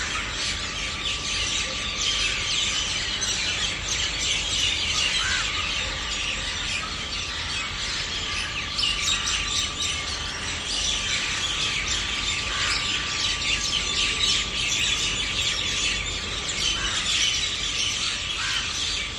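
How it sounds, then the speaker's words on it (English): A lone parrot calls while flying overhead in a quiet urban neighbourhood at dawn, its squawks rising over a steady wash of birdsong and insect-like chirping that runs throughout; a faint steady hum lingers underneath. "One lone parrot flying overhead to join its comrades."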